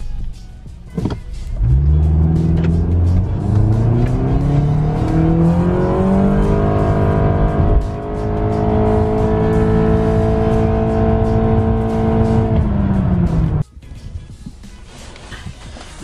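Car fitted with a K&N air intake accelerating hard in sport mode using paddle shifters, a loud close engine note climbing in pitch through a long pull before cutting off abruptly, then a quieter idle.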